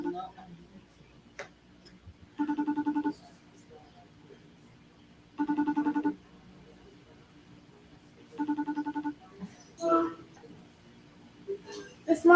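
A mobile phone ringtone sounds in three short repeated bursts about three seconds apart, fairly quiet, with faint background noises between rings.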